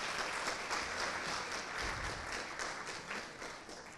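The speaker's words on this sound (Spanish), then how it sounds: "Así que también un caluroso aplauso para nuestro segundo invitado," A panel audience at the CUMIPAZ 2017 conference gives warm applause for guest Humberto Grimaldo, a continuous spread of clapping heard at a moderate distance and fairly soft level.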